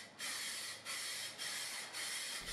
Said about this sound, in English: start spraying this primer all over the piece